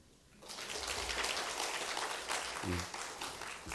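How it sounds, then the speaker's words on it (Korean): A church congregation breaks into applause, rising quickly from quiet into a steady, moderately loud clapping that carries on to the end, with a brief low voice partway through. "박수 한번"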